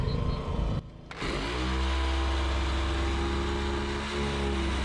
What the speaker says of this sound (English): We're just using a jigsaw, and we've got the generator going because it's just a normal plugged-in jigsaw